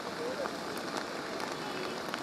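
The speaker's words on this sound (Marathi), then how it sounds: "वरून पडणारा धुवाधार पाऊस" Heavy monsoon rain pours down in Mumbai, a dense, steady hiss of drops drumming on surfaces with no break, fairly faint and even throughout.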